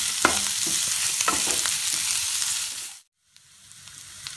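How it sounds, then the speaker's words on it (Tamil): Onions sauté in a pan for a cashew fish curry, giving a loud, steady sizzle with light stirring scrapes. The sound breaks off suddenly, then resumes more faintly. "இப்போ வெங்காயம் நல்லா வதங்கிடுச்சுங்க."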